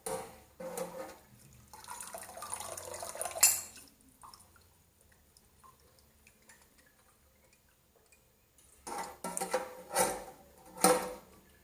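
Water draining out of an ultrasonic cleaner used on motorcycle parts, gurgling and splashing in bursts with a quiet stretch in the middle, then louder sloshing and metallic clatter toward the end.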